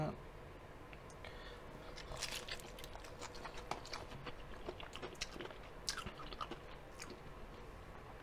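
Crunchy Jollibee fried food being bitten and chewed close up, with repeated crisp crackling bites and wet chewing over several seconds.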